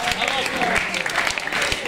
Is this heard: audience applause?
yes